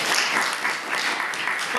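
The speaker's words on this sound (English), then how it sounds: "let's get a round of applause for our interns" Audience applauding interns at a guest speaker event on political correctness: a steady wash of clapping from a crowd, dense and continuous throughout without breaks, fairly close.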